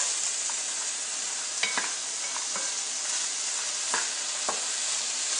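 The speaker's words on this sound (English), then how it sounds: "So just stir fry it a bit." Shrimp and cashew nuts stir-frying in a pan with seafood sauce, a steady soft sizzle with occasional scraping clicks of stirring, close and fairly quiet, no talking.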